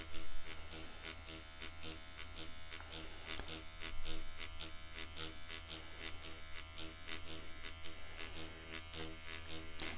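A permanent makeup (PMU) machine buzzes steadily while implanting pigment, a close, continuous electric hum with rapid pulsing throughout, a voice speaking briefly over it.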